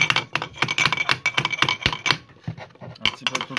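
Quick, sharp metallic taps repeat in a dense, irregular run as a part of a Somfy roller shutter motor is knocked loose during repair, close and clear.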